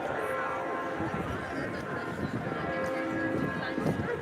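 Several church bells ring out over a busy street in Munich, Germany, their sustained tones blending with traffic and crowd murmur at a moderate distance.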